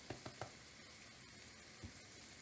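Ground beef seasoned with taco seasoning browns in a pan, giving a steady, faint sizzle with a few soft clacks of stirring at the start and one later, heard up close without talk.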